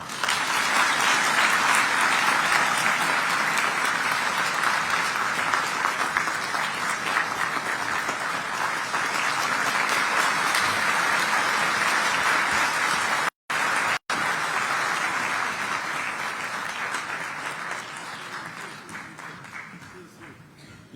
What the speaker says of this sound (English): let's continue to applaud